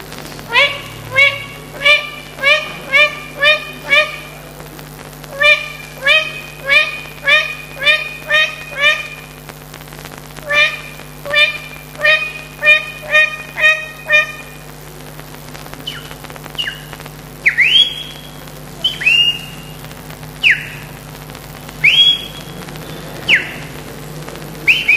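At a Dominica bird-whistling contest, a person imitates the red-legged thrush's call: rapid runs of clipped, reedy whistled notes, then a few longer sliding whistles, loud and close with faint background noise.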